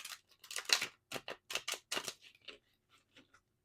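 A quick series of crisp, papery riffling bursts from shuffled tarot cards, several in a row, then trailing off into lighter flicks; close and fairly quiet, no talking.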